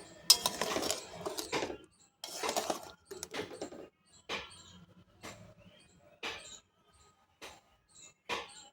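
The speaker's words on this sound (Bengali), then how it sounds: "আমি আবারও একটু নাড়াচাড়া করে দেবো।" Spoon stirring egg curry with coconut milk in a pan, a series of short scraping and clinking bursts, irregular and close, with quiet gaps between strokes.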